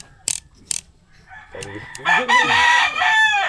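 A rooster crows loudly and close by in a long, rising and falling call that follows a few sharp knocks, set among fighting cocks.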